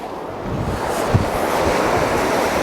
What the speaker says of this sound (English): Beautiful sound of the sea.